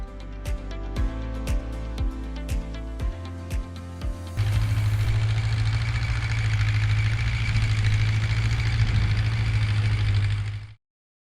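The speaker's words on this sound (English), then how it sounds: "start motor" A DCEC Cummins QSL8.9 industrial diesel engine cranks over with a rapid series of starter pulses, then catches and settles into a steady, loud, close idle, stopping abruptly at the end.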